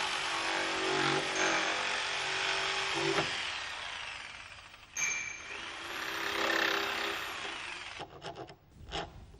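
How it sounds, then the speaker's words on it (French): Rhythmic rasping strokes as a wood rasp files and shapes a wooden window sill, two long bursts of scraping separated by a pause, close and clear, ending with a few short knocks. "Il affine la forme avec une râpe à bois."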